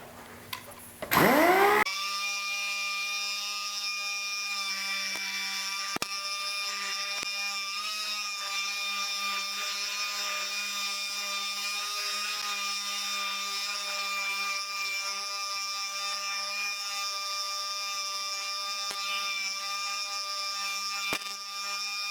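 A DA (dual-action) sander abrades painted motorcycle parts in a steady, continuous whir with a fixed high-pitched tone, running close and loud for the whole stretch after a brief start-up.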